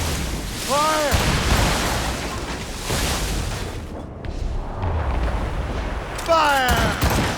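A ship's cannon volley in Assassin's Creed Rogue booms out over wind and sea, with deep rumbling blasts under a shouted command and some chanting voices.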